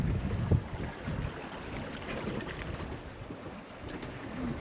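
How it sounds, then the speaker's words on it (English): Steady wind noise on a sailboat at sea off Sardinia, a constant low rush buffeting the microphone with faint water sounds beneath, with no talking. "quite continuous wind in the same direction, and it will not change."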